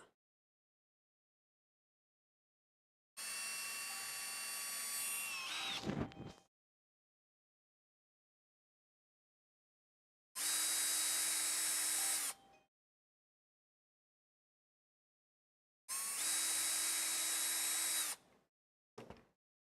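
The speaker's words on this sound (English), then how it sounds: "So we want to drill these holes out." A power drill whines in three separate bursts of a few seconds each, pitch shifting as it bites into material while drilling holes in a Casadio Unimog kit build, with silence between them.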